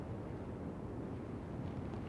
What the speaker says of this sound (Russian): Очень сильный ветер дует по верхушкам, очень сильно дует.